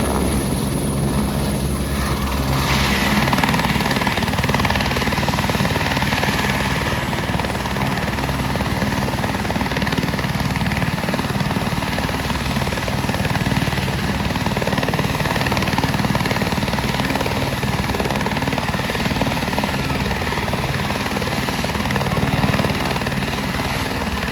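A landing helicopter's rotor and engine roar steadily and close by, a loud continuous thrumming drone that persists throughout without easing.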